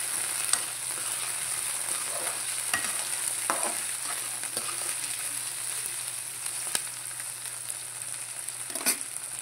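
Chicken liver and tomato frying in a pan, a constant close sizzle with intermittent scraping and clacking as a utensil stirs the pan, no voices.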